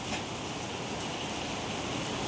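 Steady, dense heavy rain pouring down during a thunderstorm, a constant broadband wash of drops with no pauses or voices.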